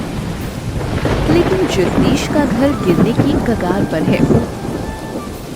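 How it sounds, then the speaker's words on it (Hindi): Rain pours steadily with thunder on the first day of the monsoon over a village, a continuous wash of sound under a voice talking throughout. "बरसात के पहले दिन बारिश शुरू हो गई है"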